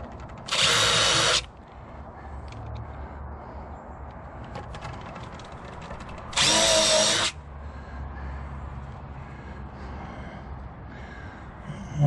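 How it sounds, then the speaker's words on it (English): Power drill countersinking screws into leftover deck lumber boards for a bench: two short, loud bursts of high-pitched whirring about five seconds apart, with quiet background between them. "I'm gonna countersink these screws I put in here"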